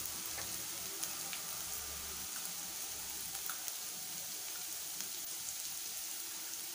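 A pinch of asafoetida crackling in hot oil in a pan while dal palak is being cooked: a steady, soft, even sizzle throughout, fairly quiet and close, with no voices.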